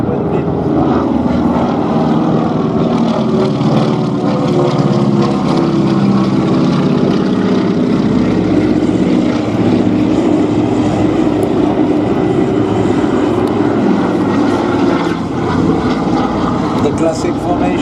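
A DC-3 flies with other classic propeller aircraft in formation at a flying display. A loud, continuous droning engine roar fills the whole stretch, and a voice talks over it.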